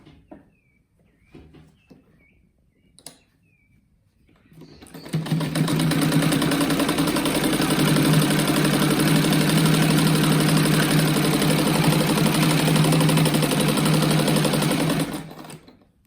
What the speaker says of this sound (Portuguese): Aqui agora eu vou costurar